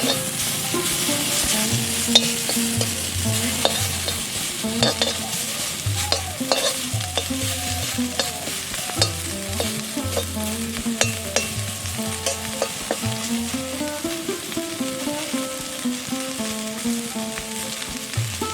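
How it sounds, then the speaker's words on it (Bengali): Stinging nettle leaves fry with spices in a pan, giving a steady, close sizzle throughout while a spoon stirs and scrapes, with a faint tonal background underneath. "এই যে মশলা করে ভাজতে হবে, নিম পাতা যেরকম ভাজে"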